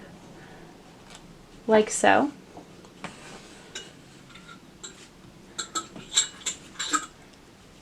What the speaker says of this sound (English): That clanging sound you hear is my child playing with a jar.